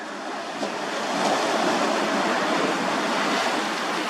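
Incoming tide washing up the shore and enveloping posts below a ramp, a steady, close roar of surf with broad wash and some wind noise, continuous and without voices.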